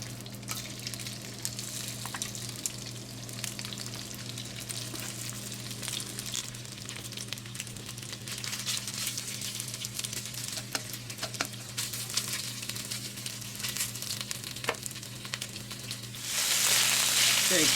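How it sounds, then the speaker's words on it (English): Pork fries in a pan alongside boiling noodles, a steady close sizzle with scattered pops and crackles that swells into a louder burst of hissing at the end. "we're going to start pan frying up the pork"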